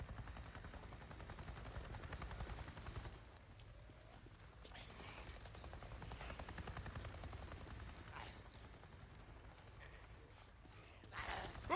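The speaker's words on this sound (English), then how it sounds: "A Nero chopper! It just buzzed right over me and acted like I wasn't even there!" Nero military helicopter from the video game Days Gone passing overhead, a steady loud rotor drone with mechanical rattle that swells and fades over about twelve seconds, with no talking.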